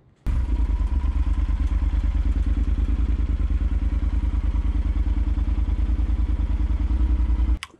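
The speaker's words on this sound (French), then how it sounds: "allumer le moteur." A motorcycle engine idles with a rapid, even thumping putter, close and loud, starting abruptly and running steadily before cutting off.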